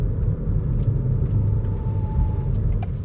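A Kia Niro EV accelerating, heard as a steady low road and motor rumble with a faint rising whine, loud and close throughout and without speech.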